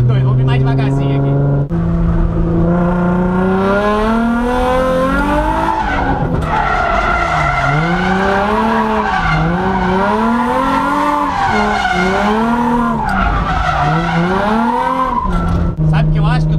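Race car drifting through a corner in a racing video game, with a loud engine whine that rises and falls repeatedly as revs change, under constant tire squealing, close and unbroken.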